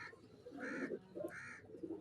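Soft, close pigeon coos repeat a couple of times in low, throaty bursts, quiet and otherwise alone.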